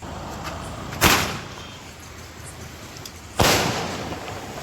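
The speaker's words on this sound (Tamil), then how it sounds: "இது வந்து வானத்துல போய் வெடிக்கிற ஷாட் இது" Two sharp, loud bursts from a Penta Force sky shot firework exploding overhead, about two seconds apart, each with a short fading tail, with steady outdoor background hiss and no talk.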